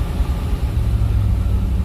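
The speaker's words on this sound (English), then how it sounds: "Let me get it idling a little bit better." A 1997 Land Rover with a 4.0 engine idles loudly and steadily up close, a dense continuous rumble with no voices.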